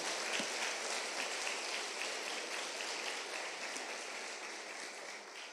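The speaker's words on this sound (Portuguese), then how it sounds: "Pode aplaudir ao Senhor, vai, vamos fazer um barulho" A church congregation applauds during a worship service, a dense, rain-like patter of clapping that holds steady and slowly fades a little over several seconds.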